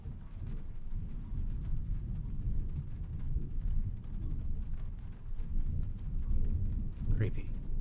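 Rain falls outside in the video game Trüberbrook, with low thunder rumbling continuously under it and a steady moderate wash of noise that builds slightly toward the end.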